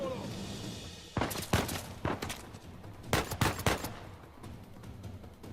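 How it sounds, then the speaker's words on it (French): Gunfire in the video game Uncharted 4 comes as several sharp bursts of shots in short clusters over a low game background, moderately loud with no speech. "Ça tire et je les vois pas."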